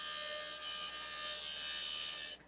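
Opal being gently ground on a JOOLTOOL disc gives a steady, close high-pitched whine with a rasping rub, continuous and level, then cutting off abruptly at the end.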